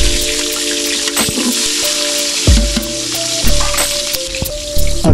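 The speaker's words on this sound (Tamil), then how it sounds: "அடுத்தது சின்ன வெங்காயம் போடுறோம்." Small shallots hit hot oil in a pot for village-style country chicken biryani, alongside nutmeg and green chillies, and sizzle loudly and continuously. Close frying crackles are joined by occasional stirring clunks and a few soft thuds.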